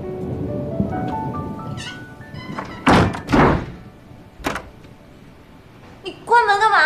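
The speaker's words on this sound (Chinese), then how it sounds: "你关门干嘛？" A room door is shut with a firm thunk, followed by a second knock-like impact, with music and a voice-like tone around it before talking resumes.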